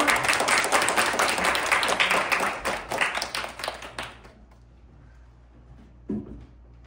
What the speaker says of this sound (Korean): 다들 큰 박수로 맞아주시기 바랍니다.